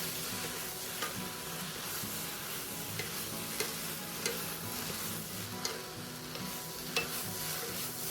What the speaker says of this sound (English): With the wok quite full, we'll go in with 2 spoons to stir everything together.